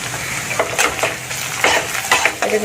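Spice masala with ground coriander and cumin being sautéed and stirred in a pan, with repeated scraping strokes of a utensil against the metal over a continuous sizzle, close and fairly loud.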